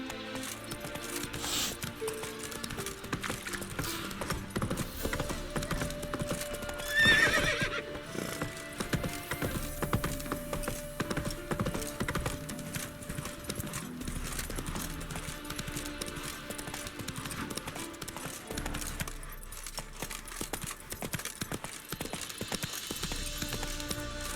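Roach, a horse in The Witcher 3, clip-clops along with steady hoof beats and lets out a clear neigh partway through, set against a game soundscape with quiet ambient music.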